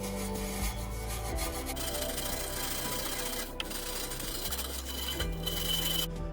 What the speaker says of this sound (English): let's just have a go with this wire brush